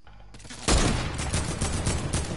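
Sniper rifle fire in Fortnite: a sharp loud shot cracks out after a quiet moment, then a steady rattle of further gunfire carries on to the end.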